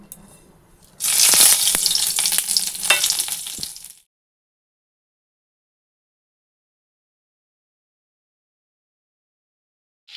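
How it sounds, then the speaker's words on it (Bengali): Bay leaf, cumin seeds and dry red chilli hit hot oil in a kadai, setting off a loud, bright sizzle for about three seconds before everything falls silent. "ফোড়ন দেওয়ার জন্য এখানে কড়াই বসিয়ে দিয়েছি, আর ফোড়নের জন্য নিয়েছি তেজপাতা, গোটা জিরে, আর হচ্ছে শুকনো লঙ্কা"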